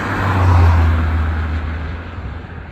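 A Nissan Figaro driving along, steady engine and road noise with a low hum that swells early then eases slightly, close and continuous with no talking.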